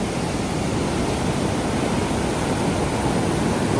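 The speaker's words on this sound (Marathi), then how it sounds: "ही मुसा या गावातली आळंदी नदी आहे ही आळंदी नदी मधून आळंदी धरणापासून येत आहे" The Alandi river in Musa village flows down from the Alandi dam, making a steady, dense rush of water that stays even and unbroken throughout, with no voices over it.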